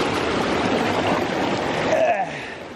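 Creek water near the Envigado waterfall rushes and splashes continuously and fairly loudly, with a brief faint voice-like tone near the end.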